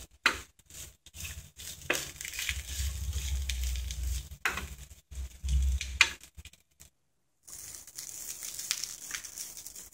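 Ivy gourd thoran stirred with crushed coconut in a pan: dry crinkly scraping and rustling in bursts with brief pauses, close and soft, no voices.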